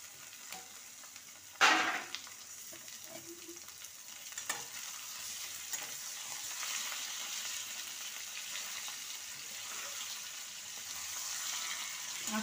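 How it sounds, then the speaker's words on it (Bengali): Chicken pieces frying in a pan with onion and ginger-garlic paste, a steady close sizzle broken by a sharp clatter of stirring early on and occasional scrapes, no talking. "মাংসটা ভালো করে ভেজে নিয়েছি।"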